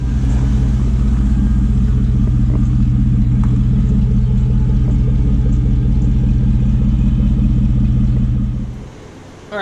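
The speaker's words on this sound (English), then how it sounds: "Let's hear how the truck sounded before we did all the modifications." A stock Silverado single-cab 4x4 pickup engine rumbles loud and close with a deep, steady low-end drone for about nine seconds, then suddenly drops away to near quiet.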